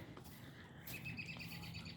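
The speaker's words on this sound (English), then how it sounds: "I don't know if you can hear on there the birds" Birds chirp and sing on a quiet morning at a small urban homestead, faint scattered tweets over a soft background hum, growing a little livelier toward the end.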